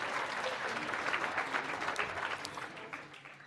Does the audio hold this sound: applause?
yes